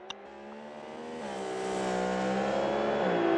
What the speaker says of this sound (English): you can just hear them running, revving, screaming, roaring, depending on the engine, as they go through